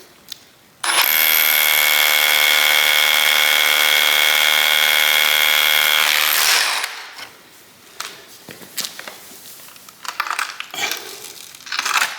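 A Ryobi SDS rotary drill on an Edge battery bores with a 5/8 inch bit in one loud, steady, high-pitched whine lasting about five seconds, then stops, followed by scattered crunching and debris sounds.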